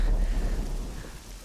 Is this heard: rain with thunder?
yes